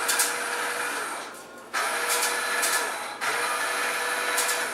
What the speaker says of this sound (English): That's going to be the drill.